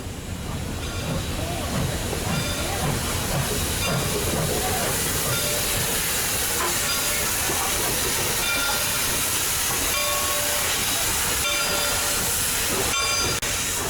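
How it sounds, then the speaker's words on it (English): Reading and Northern steam locomotive No. 425 moves toward the turntable at a Reading, Pennsylvania station, giving off a steady, loud hiss of steam with mechanical rumble and clanks throughout. "Number 425 is heading for the turntable during one of the autumn leaf excursions from Reading, Pennsylvania."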